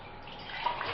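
Water poured from a container during a capacity lesson, a short steady splashing pour that swells slightly toward the end, close and alone without talk.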